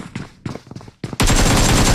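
Gunfire from an AK rifle in PUBG Mobile: a few spaced sharp shots, then a loud continuous blast of noise that holds to the end, with no voices.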